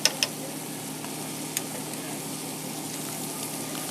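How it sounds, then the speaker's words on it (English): Butter sizzles in a pan with scallops, a soft steady frying hiss with a few sharp clicks of utensil contact near the start, fairly quiet and close, with no voices. "Now you just want to add a little bit of butter to richen this up."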